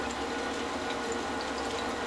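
A cat drinks water in a bathtub, giving a steady watery wash with faint splashing throughout and no clear rhythm.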